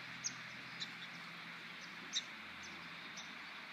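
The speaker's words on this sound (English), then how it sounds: "you hear a lot of birds making noise and chirping" Faint, sparse bird chirps rise above a steady outdoor hiss, a few short calls scattered far off.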